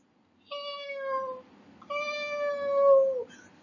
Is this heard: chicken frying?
no